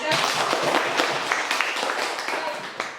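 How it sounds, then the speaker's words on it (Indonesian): A group bursts into applause, many hands clapping together fairly loudly for a few seconds, with some voices mixed in. "Tepuk tangan."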